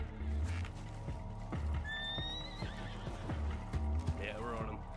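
A horse in a Wild West roleplay video game neighs in a loud whinny, with clip-clop hoofbeats and rhythmic thumps around it, while players talk over the scene.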